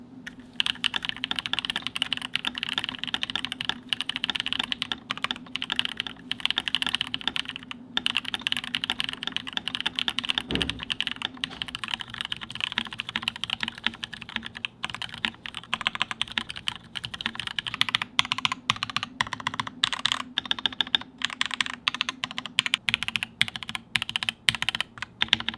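A Cyberboard mechanical keyboard fitted with Holy Panda switches clatters under continuous typing, quick close keystrokes in an uneven rhythm with no talk.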